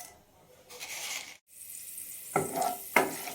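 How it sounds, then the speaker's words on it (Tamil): Chana dal stirred into oil in a pan on the stove, a faint close sizzle in short bursts with brief scraping, no voices. "அடுத்து தேவையான அளவு எண்ணெய் ஊற்றிக்கின்னு கொஞ்சமாக கடலைப்பருப்பு சேர்த்துக்கலாம்."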